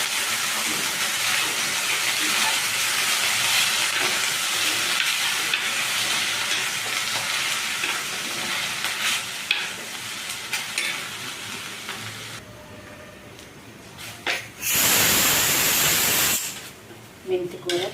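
Finely chopped fenugreek leaves sizzle in hot oil with a tempering of cumin, dried red chillies and urad dal while a spoon stirs the pan, a steady loud hiss that surges near the end; someone speaks over it.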